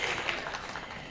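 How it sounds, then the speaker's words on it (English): A convention audience applauds a speaker, a faint, distant patter of many hands clapping steadily for about a second. "Big round of applause to her"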